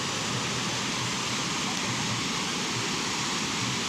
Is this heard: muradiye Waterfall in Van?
yes